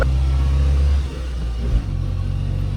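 A Fiat 126 BIS engine revs and rumbles steadily, dipping briefly before picking back up, close by with no talking.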